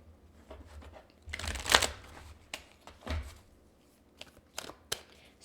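Angel oracle cards being shuffled in bursts, a loud riffle of cards near the start followed by softer, scattered shuffles and taps, close by, with no talking.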